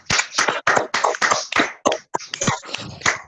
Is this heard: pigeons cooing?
no